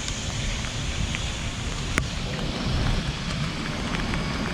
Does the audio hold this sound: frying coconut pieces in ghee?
no